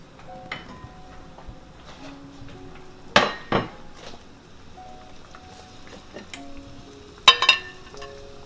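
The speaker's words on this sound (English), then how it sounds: "I'm going to take the meatballs out and place them aside" Cooked Vietnamese meatballs lifted out of a pan of tomato sauce, with a few sharp utensil clinks and knocks against the pan over a low simmer and scattered quieter scrapes.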